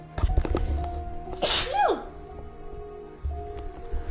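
A single sharp sneeze bursts out mid-stream over a gaming livestream, with game sounds and background audio continuing around it.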